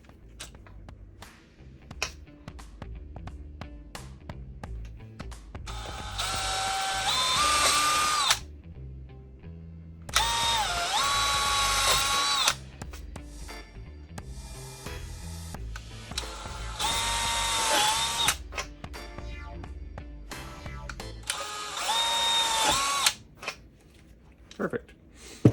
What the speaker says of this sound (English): Now we'll take our drill here.